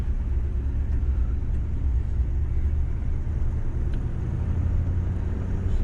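A 1968 Chevrolet Impala with 62k miles drives after sitting for five years, with a steady low engine rumble and road drone heard from inside the car. The engine stays at gentle, even revs throughout and no one talks.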